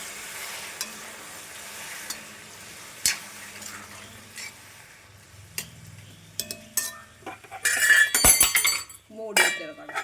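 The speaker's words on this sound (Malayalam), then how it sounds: "ഇളക്കി എടുക്കാം" Chicken feet curry stirred in a pan after tomatoes and water go in, with scattered clinks of a spoon against the metal and soft scraping, growing busier and louder toward the end.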